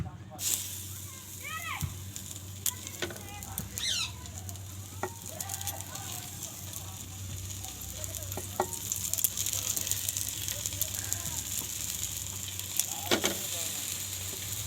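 Food frying over full flame on a stove, a steady sizzle with scattered crackles and pops running throughout, close and fairly loud, with occasional faint voices in the background.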